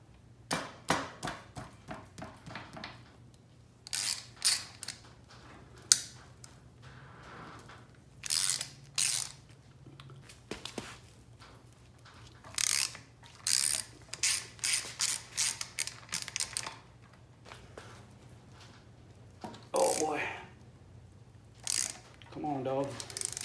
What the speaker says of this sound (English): let's loosen up these bearing carrier bolts